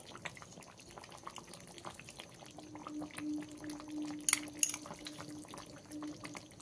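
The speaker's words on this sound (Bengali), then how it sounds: "গরম মশলাটা দিয়ে 1 মিনিট মতন আমি ফুটিয়ে নেব" Chicken curry with potato, with garam masala just stirred in, simmers in a pot with soft bubbling and faint liquid pops, quiet apart from a few sharper clinks of utensils.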